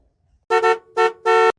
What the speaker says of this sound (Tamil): அத்தை ஹாரன் சவுண்ட் கேட்குது